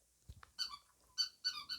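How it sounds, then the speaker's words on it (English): A dog chews on a squeaky toy indoors, making a few short, high-pitched squeaks in quick succession, faint and close, with no talking. "She's squeaking her squeaky."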